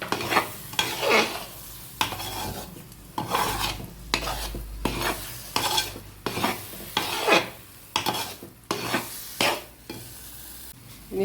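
Jackfruit halwa with cardamom and dry ginger powder being stirred in a pan, a steady series of scraping strokes about once a second, close and fairly loud, with a faint sizzle of oil underneath and no talk.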